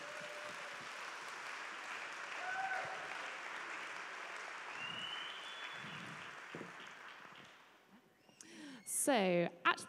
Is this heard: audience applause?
yes